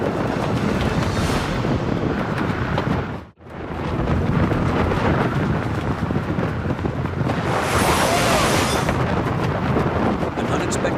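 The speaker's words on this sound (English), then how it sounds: "Now we just need to hunker down and ride out this ferocious storm." A ferocious storm batters a tent on an active volcano, a loud, continuous roar of wind and flapping fabric that briefly drops away once before surging back just as hard.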